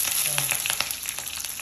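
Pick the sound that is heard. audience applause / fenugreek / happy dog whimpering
fenugreek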